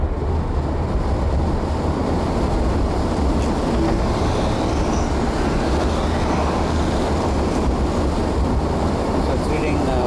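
An electric car cruises westbound at about 45 mph, its road and wind roar a constant, loud rush from inside the cabin, unbroken throughout.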